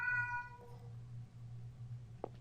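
A cat in the horror video game The Crooked Man gives one clear, close meow over a low steady hum, followed by quiet ambience and a faint click.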